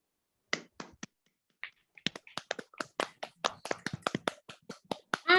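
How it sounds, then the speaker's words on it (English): Attendees of an online Toastmasters meeting unmute to give scattered claps and finger snaps, sparse at first and then quickening into a run of sharp, distinct snaps and claps close to the microphones. "give her a huge round of applause for the wonderful icebreaker speech"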